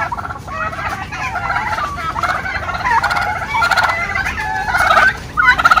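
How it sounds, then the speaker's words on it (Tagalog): A turkey on a farm gobbles loudly and close by in repeated rapid warbling bursts for several seconds, with only faint background noise. "Ah, pabo."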